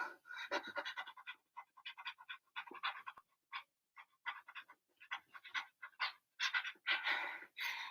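A person imitates a dog panting with rapid breathy huffs in an irregular rhythm, quiet and close, some bursts louder and faster toward the end.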